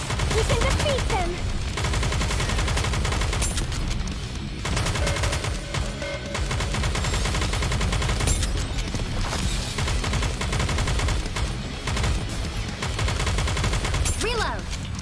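Sustained heavy gunfire from a Nikke battle, overlapping machine-gun bursts firing nonstop and loud, with a few short lulls and occasional game voice lines blended into the barrage.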